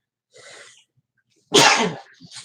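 A single loud sneeze comes close after a soft sharp intake of breath, with a faint breath at the end.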